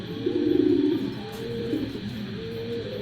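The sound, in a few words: cooing of an old-breed Bagha pigeon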